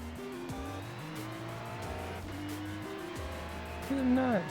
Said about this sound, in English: And this engine note.